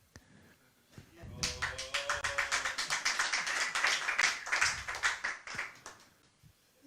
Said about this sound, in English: All the people gathered there began to clap in great ecstasy. See? Clapping.